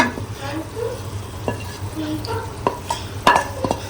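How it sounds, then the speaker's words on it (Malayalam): A spoon stirs spice powders into frying tapioca and chicken liver curry in a pan, with soft scrapes and sharp clinks against the metal over a low sizzle. "പച്ചമണം മാറുന്നത് വരെ ഒന്ന് ഇളക്കി യോജിപ്പിക്കുക"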